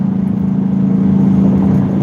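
A 5.0-litre V8 car engine idles in the background with a steady, loud low-pitched throb and a faint rhythmic pulse, alone without talk.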